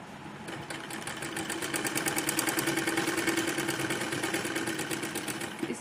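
A sewing machine runs steadily while stitching the lining of a kurti close to its embroidery, making a continuous mid-pitched mechanical whir with rapid needle ticking, close and fairly loud, without speech.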